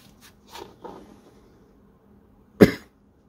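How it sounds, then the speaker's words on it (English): A single sharp cough rings out close to the mic near the end, after some faint handling noises, in a quiet room where a Badger Sotar 2020 airbrush and its box are being examined. "Sorry about the cough."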